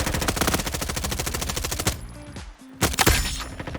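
Automatic weapon fire in the Roblox Frontlines shooter game: a loud, rapid, evenly spaced burst, a brief gap, then another short burst.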